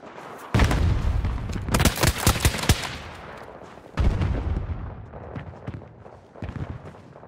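Loud bursts of automatic gunfire and booming shots from a Battlefield 2042 Conquest match, close and dense at first, then settling into sharper scattered shots and distant firing.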